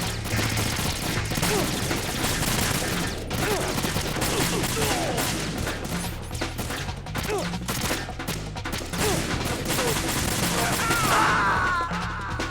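Dense, rapid gunfire from the video game Metal Gear Solid 2 rattles on continuously in loud overlapping bursts, with cracks and impacts layered throughout.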